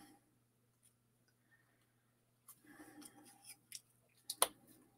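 Small scissors snip through card paper during card making, a few faint, close cuts in short bursts and a sharper snip near the end, in an otherwise quiet room.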